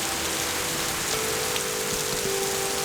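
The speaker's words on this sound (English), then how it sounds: "Yep, it's raining." Steady rain pours onto a mountain brook, a dense, even hiss of drops close around, with a faint tonal hum running underneath and no talking.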